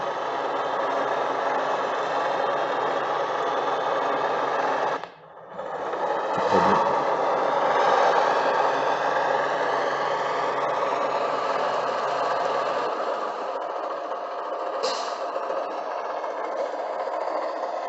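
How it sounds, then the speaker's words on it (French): Steady, close electric motor hum of a 1:45 scale model diesel locomotive, a buzzing, purring tone, briefly cutting out once before resuming and running on continuously. "Et on entend bien le ronronnement du moteur."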